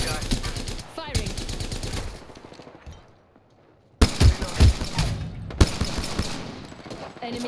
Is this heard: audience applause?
no